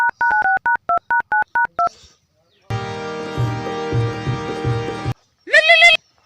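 A phone number dialed in a quick run of about ten beeping keypad tones, followed by a steady ringback tone and then a short burst of voice as the call connects.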